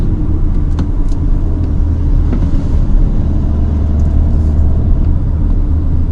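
A 2019 Audi A5 Sportback cruises in sport mode with the transmission in S, its steady low engine and road rumble droning evenly and close throughout, with no talk.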